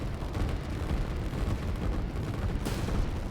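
A rocket strike explodes amid battle in the video game Line War. A dense, rumbling roar of blasts and gunfire rolls continuously, with a sharper burst near the end and no voices.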